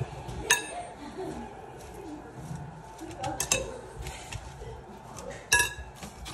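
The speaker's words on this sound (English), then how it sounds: "And then I'm gonna get a fork and then mix it all up." A fork mixes house salad in a bowl, giving a few sharp metallic clinks against the dish amid soft rustling, with a person talking quietly over it.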